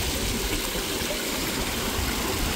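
Water rushes steadily from a stream outlet at a natural bathing spot, a constant, full hiss that stays even and close throughout, with no voices over it.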